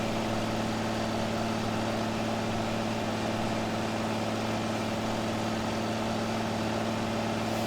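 A tractor engine revs steadily in Farming Simulator 2015, producing a constant, loud, unbroken droning hum with strong low tones that holds at the same pitch for the whole stretch.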